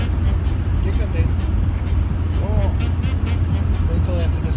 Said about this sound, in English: Wait till after this car passes, then you're good.